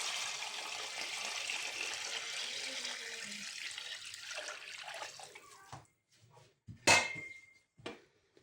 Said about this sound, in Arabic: هننزل بقى بالميه بتاعتها